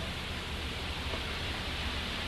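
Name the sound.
white noise broadcast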